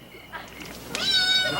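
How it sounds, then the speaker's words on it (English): A cat meows in a spooky old television scene, a drawn-out, rising cry close by over a faint background hum. "Was that a cat? Oh, yes. I've lots of cats."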